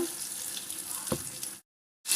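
Soft, steady sizzle of cashews frying in ghee, with a brief stir, then a sudden cut to silence before the sizzle returns.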